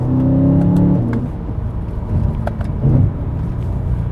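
A BMW E90 M3 with the DCT gearbox revving its V8 on downshifts, sharp throttle blips with rising and falling engine tones up close, then settling into a lower drone as the car rolls on.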